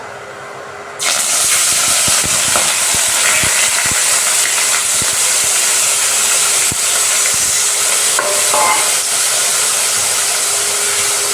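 Tomato, shallots, green chili, curry leaves and ginger hit a hot pan, and a loud, steady frying sizzle bursts in after a second of quiet and carries on, close up, without talking.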